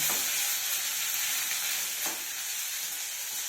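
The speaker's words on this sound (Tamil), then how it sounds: "வெங்காயம்லாம் நல்லா ப்ரௌனாக வறுக்கணுங்க" Onions frying in oil in a pan for a Tamil kuzhambu, browning with a continuous soft sizzle, broken twice by quick scraping stirs, fairly quiet with no voices.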